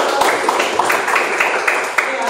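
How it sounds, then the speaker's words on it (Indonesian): A high-school biology class claps together in a quick, evenly paced run of hand claps, close and loud, with a teacher's voice over them. "Oke, tepuk tangan dulu."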